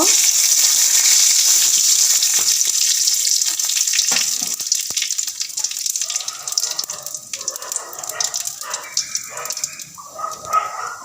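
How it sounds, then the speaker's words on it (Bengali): Cumin seeds and bay leaves sizzle in hot oil for a Bengali broccoli curry, a loud steady frying hiss at first that gradually eases, with scattered crackles and some clattering kitchen noises toward the end. "একটু জিরে ফোড়ন দেব দুটো তেজপাতা দেব"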